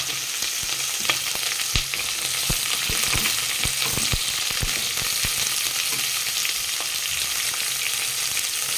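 Onions frying in hot oil for egg pulao, a dense continuous sizzle with irregular close stirring scrapes and taps, no voices.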